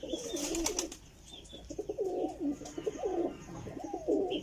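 Sadhna breed breeder pigeons coo in soft, repeated throaty rolls that run through the whole stretch, fairly close, with a few faint chirps and some background noise and no talking.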